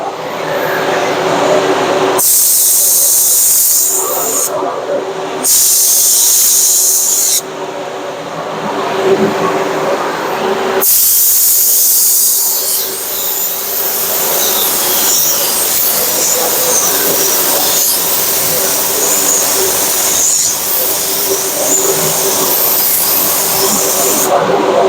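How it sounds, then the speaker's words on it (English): A spray gun lays another coat of three-stage car paint. It makes a loud, continuous hiss that comes in passes, with several short breaks between bursts, and runs for about twenty-five seconds. "I'm gonna go ahead and shoot one more coat on it."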